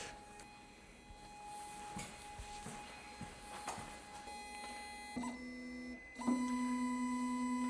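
Quiet whirring motors with short stepping moves and steady tones, a few clicks, then a louder sustained hum as a Makera Z1 CNC machine positions its drill bit to calibrate tool height.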